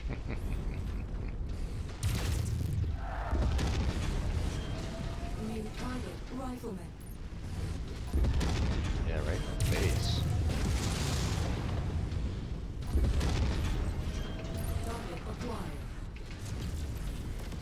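Heavy gunfire and weapon impacts rattle against a player's mech in a MechWarrior battle, booming and creaking metallic hits repeating over about seventeen seconds, loud and continuous with bursts near 2, 8 and 13 seconds, voices talking over the din.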